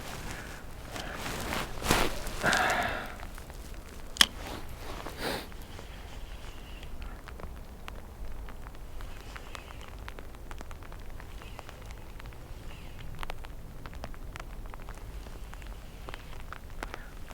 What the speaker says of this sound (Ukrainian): Дощик у нас посилюється, до речі.